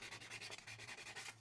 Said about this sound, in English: we took off just a little bit on this, just some sanding it, using some 600 grit sandpaper